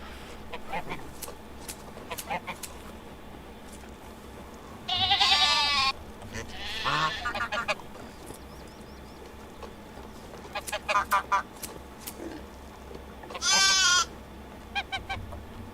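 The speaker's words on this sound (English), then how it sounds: "there was that gurgly sheep again The one that sounds like it's vomiting" Two gurgling, wavering sheep bleats from the video game Medieval Dynasty, each lasting about a second and spaced apart, over a quiet background with soft scattered clicks and taps.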